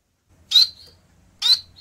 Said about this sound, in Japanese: あと鳥の声は呼び鳴きが結構大きいので近くにいるとうるさいです